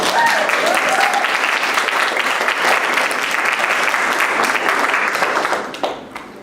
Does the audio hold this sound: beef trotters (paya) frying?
no